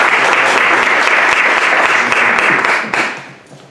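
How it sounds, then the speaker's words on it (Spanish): A large audience gives loud, dense applause welcoming a speaker named Óscar, sustained and even before thinning and fading out toward the end. "Un aplauso muy fuerte para él."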